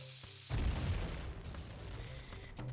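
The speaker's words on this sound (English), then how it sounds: "we'll go ahead and blow more of this stuff up that's right here, more of these rocks that are around" A bomb blows up rocks in The Legend of Zelda: Ocarina of Time: a single deep, fairly quiet boom bursts out after a short pause, then settles into a rumbling tail that fades slowly.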